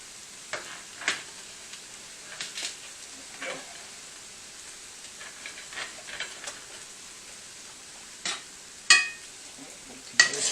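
Alligator sauce piquant being stirred in a pan, with faint sizzling under intermittent scraping strokes and a few sharper clinks of spoon against metal near the end.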